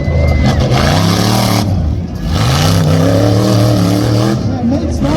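Off-road trucks racing on a slick track at a night event in Red Bluff, California, engines roaring and revving loudly with rising and falling pitch, an announcer talking over them.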